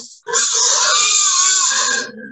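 A live pig weighing roughly 60 kilos, kept on a farm in Uganda, lets out one loud, strained squealing grunt close by that lasts nearly two seconds, then stops abruptly.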